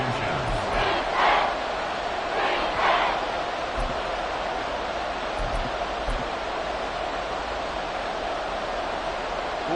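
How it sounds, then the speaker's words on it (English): Loud, steady stadium crowd roar in an EA Sports American football video game, late in a tied game on a short-yardage down, with a couple of surging cheers early on over a constant wash of noise. "this crowd trying to force a false start here"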